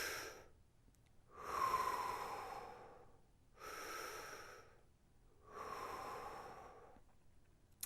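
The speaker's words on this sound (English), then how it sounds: "So you can breathe simply from your belly," Slow belly breathing: three long, steady breaths in and out, each swelling and fading over about two seconds with quiet pauses between, close and soft with no talking.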